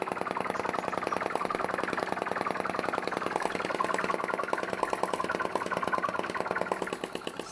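A vacuum, or atmospheric, flame-gulping engine runs with a rapid, steady mechanical clatter, loud and close, its fast regular beats continuing unchanged throughout without any talk.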